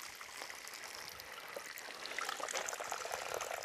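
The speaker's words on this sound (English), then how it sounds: "A lot of water coming down here." Water pours fast and steadily off a soil erosion demonstration tray after five liters have been added, a continuous close rushing trickle that swells slightly louder partway through, with no voices.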